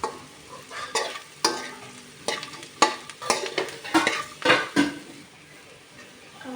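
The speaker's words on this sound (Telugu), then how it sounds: "వేసి అయితే అన్నీ మిక్స్ చేసుకోవాలి" A spoon stirs sweet corn in a pan with soft sizzling, giving a series of irregular scraping clinks against the metal, close and fairly quiet, with no speech.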